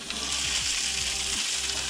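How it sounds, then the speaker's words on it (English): Dove meat sizzles in a pan with a steady, crackling hiss, close and fairly loud, with a low background hum and a few faint scraping knocks. "Oh yeah, she's sizzling."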